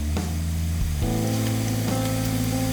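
Sliced onions sizzle in hot oil in a pan for a Nepali green bean curry, giving a steady, close hiss and crackle with a low hum running underneath.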